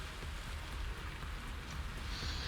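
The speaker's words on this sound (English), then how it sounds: "it's starting to rain" Steady rain patters across a surface in the video game Satisfactory, a dense hiss that holds without a break and carries no voices.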